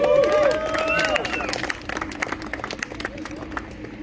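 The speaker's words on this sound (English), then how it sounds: "So give yourselves a round of applause." Applause from a live concert audience, crowd clapping mixed with cheering and shouting under singing-like vocal tones at the start, then a steady spread of claps fading slightly over the remaining seconds.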